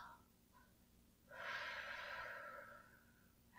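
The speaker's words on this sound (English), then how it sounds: "exhale." A person breathes out one slow, deep exhale during a relaxation session, soft and close, with quiet room tone before and after.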